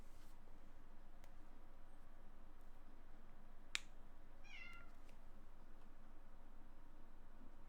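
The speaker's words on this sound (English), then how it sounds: "Cat says meow." A cat meows once, a short faint call against steady background hiss, with a sharp click just before it.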